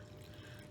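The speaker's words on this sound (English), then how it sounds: "now I'm gonna pour some of this warm broth, chili broth in there" Warm chili broth poured into masa for chicken tamales: a brief, faint liquid trickle and splash, quiet and close, with no talk.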